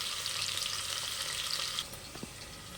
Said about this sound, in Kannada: ಈಗ ಈರುಳ್ಳಿನ ಸ್ವಲ್ಪ ಬ್ರೌನ್ ಆಗೋವರೆಗೂ ಎಣ್ಣೆಲಿ ನೀಟಾಗಿ ಫ್ರೈ ಮಾಡಬೇಕು